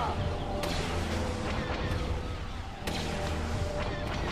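Sniper rifle fire in Star Wars Battlefront II amid a dense, loud battlefield din, with a couple of sharp cracks standing out over constant explosions and rumble.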